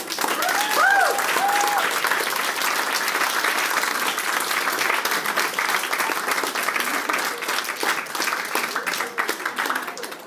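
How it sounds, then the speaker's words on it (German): A studio audience gives loud, sustained applause, a dense continuous clapping with brief vocal whoops near the start. "Applaus!"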